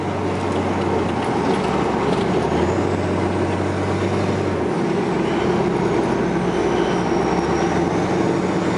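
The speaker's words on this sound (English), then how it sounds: "Hear it shifting out. Shifts out like it's supposed to." A 2003 Ford F350 Lariat FX4 pickup with a Cummins turbo diesel drones steadily at highway speed with broadband road and wind noise, its engine pitch stepping as it shifts gears.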